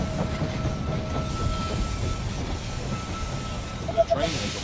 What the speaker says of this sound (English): Train has arrived at the station.